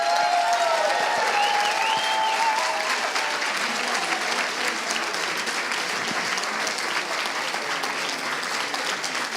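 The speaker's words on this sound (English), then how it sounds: "Can we get a round of applause for our candidates?" An audience at a congressional candidate forum claps for the candidates, a dense sustained round of applause that holds steady and fades slightly toward the end.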